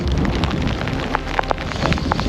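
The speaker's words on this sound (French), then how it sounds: "Sous la pluie." Rain falls steadily during a fishing outing on a draining lake, a dense close patter with scattered louder drops striking nearby surfaces.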